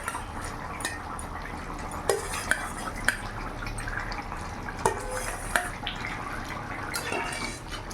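Fried katla fish is stirred into a thin curry with potato and pointed gourd in a pan, with soft liquid sloshing and a few sharp utensil clinks against the pan over a low, steady bubbling.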